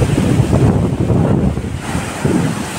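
Loud rushing water surges and crashes continuously as strong waves churn at Mohanpura Dam in Rajgarh, with heavy wind buffeting the microphone.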